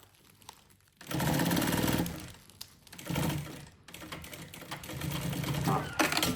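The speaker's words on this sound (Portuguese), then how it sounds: "E faço a costura de novo, até o final." Sewing machine runs in steady bursts while stitching bias binding along the edge of a fabric lunch bag, fast mechanical whirring in three close, fairly loud passes separated by short pauses.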